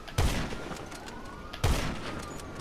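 Two sharp gunshot bursts a bit over a second apart, each a loud crack with a low thump and a trailing rumble, from a jet-fighting video game, with faint tonal game sounds between them.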